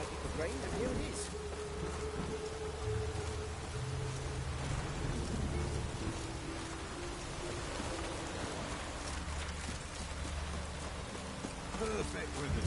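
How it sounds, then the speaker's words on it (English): Video game rain patters evenly throughout, a soft steady wash of drops with faint low tones humming beneath it. "Looked like it could rain, and here it is."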